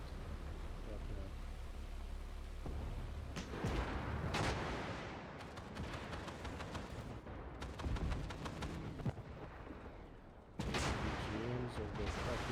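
Anti-tank guided missiles firing in World of Tanks, with booming launches and blasts that burst out at irregular intervals over a rumbling noisy background, fairly loud, with voices talking in between.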